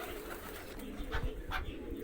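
Pigeons coo softly in a few low, throaty pulses near the middle, close but quiet, among guinea fowl chicks in a home aviary with steady background noise.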